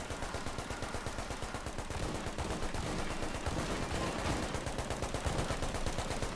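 Automatic turret fire in The Division, a loud, steady stream of rapid, evenly spaced shots hammering on without pause.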